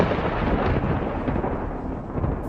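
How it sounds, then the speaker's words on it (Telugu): Heavy rain roars with a deep, rumbling thunder wash on a cold, dark night, a dense, loud, continuous sound with no talking. "కాసేపటికి నేను అనుకున్నట్టే వర్షం మొదలైంది."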